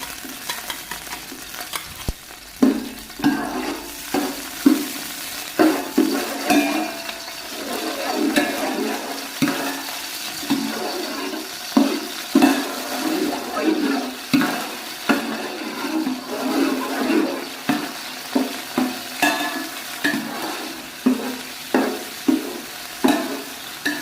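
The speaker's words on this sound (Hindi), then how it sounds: "जी, तो हमारा ऑयल गर्म हो चुका है। अब हम इसमें प्याज ऐड करेंगे।" Onions frying in hot ghee for white chicken pulao give a continuous sizzle close up, punctuated by a steady rhythm of scraping stirs against the pan.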